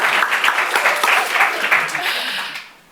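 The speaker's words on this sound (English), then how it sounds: "Do the clap quick." An audience claps together during a discussion event on agrarian land struggles, a brief burst of fairly close applause with some voices mixed in, fading out over the last half second.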